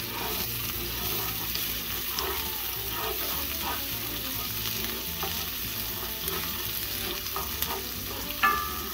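Onions softening in hot oil in a pan while being stirred, a steady close sizzle with scraping and clinks from the spoon, alone without talk.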